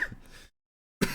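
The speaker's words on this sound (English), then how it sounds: "Man, these coughs are driving me crazy" A single short cough or throat clear from a man, close and fairly quiet, followed by a brief silence and then the start of another cough.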